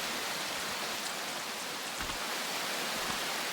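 Steady, dense rain falls in the survival game Prologue, a constant hiss of drops hitting surfaces with no pauses or voices.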